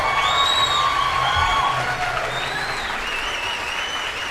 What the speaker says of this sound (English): People are clapping for her.